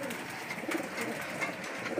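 Pigeons coo steadily inside a pigeon loft, a soft continuous murmur of overlapping low calls at moderate distance with no talking.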